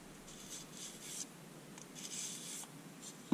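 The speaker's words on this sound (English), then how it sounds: "You could take that 600 grit paper" 600 grit sandpaper rubs the brass back spring of a 1095 high carbon steel pocketknife, quiet, close scratchy strokes in short repeated bursts with a sharper scrape at the end.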